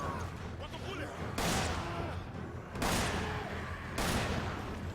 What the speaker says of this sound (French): C'est une arme, le petit pistolet mitrailleur.